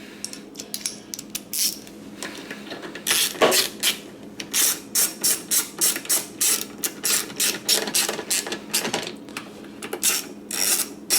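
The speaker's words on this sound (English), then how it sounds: "Once I've got them all started, go ahead, tighten down with a wrench." A wrench tightening the bolts on a push mower, giving a steady run of rapid ratchet clicks in short repeated bursts, close and fairly loud, with no talking.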